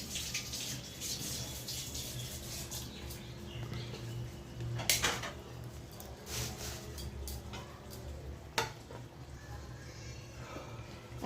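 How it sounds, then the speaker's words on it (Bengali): Tap water runs over guavas and grapes being washed in a kitchen, a soft steady splashing stream with occasional light clinks and knocks of handling, fairly quiet and close. "দাঁড়াও আসো ধুয়ে দিই, ধুয়ে দিচ্ছি দাঁড়াও"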